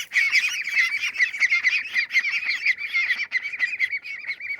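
Ducks on an off-grid homestead farm squawk loudly and continuously at close range, a dense overlapping chorus of harsh calls with no pauses.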